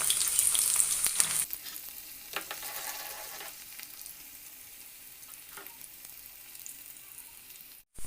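Shallots sizzle in hot oil close up, a loud frying crackle at first that settles into a quieter steady hiss.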